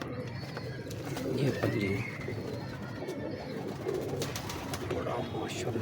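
Pet pigeons coo in a loft where about eight to ten breeding pairs are kept, their soft repeated calls running steadily under someone talking close by.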